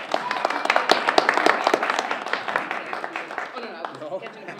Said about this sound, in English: So we're going to give her a round of applause